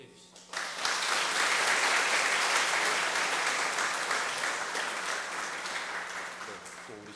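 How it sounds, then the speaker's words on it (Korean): A church congregation breaks into warm, sustained applause during a Sunday worship service, rising quickly and holding steady for several seconds. "박수해 주시죠."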